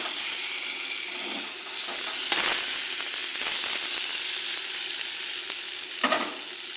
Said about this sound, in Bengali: কচুগুলো একটু ভেজে নিচ্ছে মশলা দিয়ে